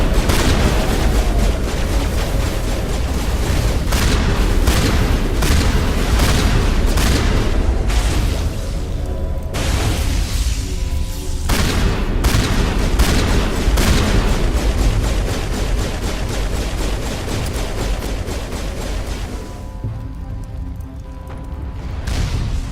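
Rapid gunfire in the Mass Effect video game, dense bursts of loud repeated shots with short pauses, carrying on through most of the stretch without voices.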